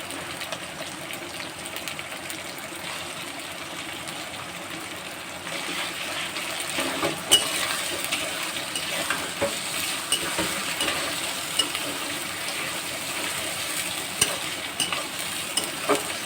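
Shrimp sizzles in hot oil with ginger and garlic in a pan, a steady close frying hiss that grows louder after the shrimp goes in, with occasional stirring clinks.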